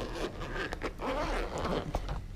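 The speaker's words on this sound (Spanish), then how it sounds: "Y pues tenemos un cierre." A zipper on an Acerbis tool backpack for a KTM 250 dirt bike is pulled open in one continuous rasping run of close, textured scraping, with no talk.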